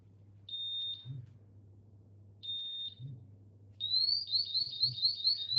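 A portable gas detector shrills in alarm during a bump test: two short high steady beeps, then a rapid warbling chirp sequence, loud and close over a low steady hum.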